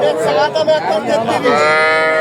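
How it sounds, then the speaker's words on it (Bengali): Young Sahiwal bull calves low at a busy village cattle market, giving a short close moo amid crowd chatter and nearby voices. "জোড়া দুটোই ষাঁড় বাচ্চা।"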